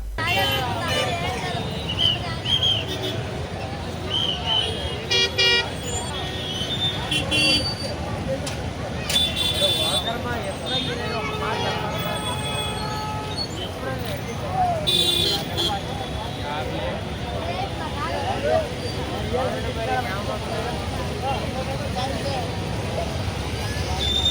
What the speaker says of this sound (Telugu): పెద్ద ఎత్తున పెరిగిన ప్రైవేట్ ట్రావెల్స్ బస్సులతో భారీగా ట్రాఫిక్ జామ్ అయింది